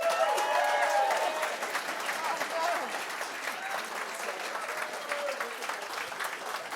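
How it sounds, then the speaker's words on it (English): A debate audience claps against the motion, steady moderately loud applause throughout with some crowd voices underneath. "Against the motion, a show of applause."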